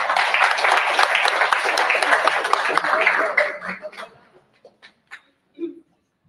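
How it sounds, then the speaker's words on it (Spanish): Loud, dense applause from a large crowd at a labor union gathering fills the room for several seconds, then fades out into a few scattered claps and murmurs. "con fuertes aplausos"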